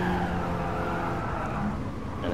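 Race car braking hard in GT Sport, a loud engine roar winding down with a tyre squeal and scrubbing noise as the car slows.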